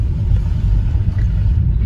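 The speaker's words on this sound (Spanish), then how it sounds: "Muchísimas trocas, muchísimos carros" Cars and trucks drive along a snowy mountain road near Chilao campground, a steady low engine and tyre rumble heard from inside a moving vehicle, continuous and fairly loud with no talk.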